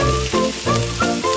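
Cooking oil crackles in a miniature pan, a close, steady sizzle with a faint pulsing rhythm and no voices.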